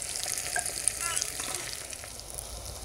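Masala cooking in a pan for okra tamarind curry gets stirred, with a soft steady sizzle and faint scraping throughout, close and fairly quiet, no talking.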